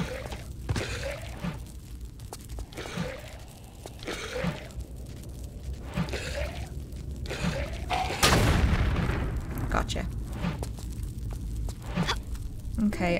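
Gunfire in Tomb Raider 4: The Last Revelation as mummies are shot, a series of sharp game shots with one big boom partway through, over steady background game ambience.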